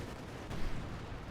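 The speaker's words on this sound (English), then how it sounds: "All sorts of artillery coming in." Artillery fire and explosions in the Company of Heroes 2 video game, a constant rumbling battle wash with a sharper burst near the middle, heard without talk.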